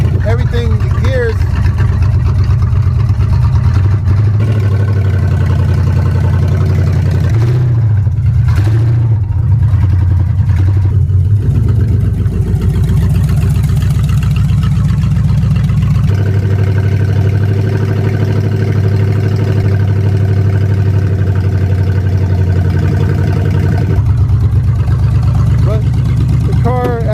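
A Ford Maverick with electronic fuel injection runs steadily with a loud, close mid-pitched engine drone, the tone dipping and shifting now and then, while someone talks over it.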